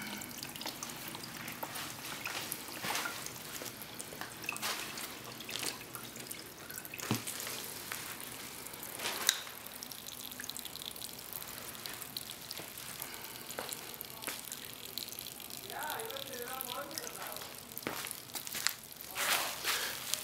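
Water runs steadily off artificial grass turf into a bucket, a continuous trickling and splashing with scattered drips, fairly quiet and alone.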